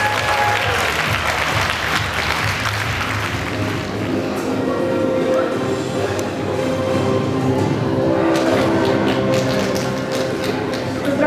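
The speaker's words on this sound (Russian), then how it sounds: "Провожаем зал под аплодисменты." A school hall audience claps through a last-bell graduation ceremony for eleventh graders, loud continuous applause with a low hum of music or voices beneath it, swelling slightly toward the end.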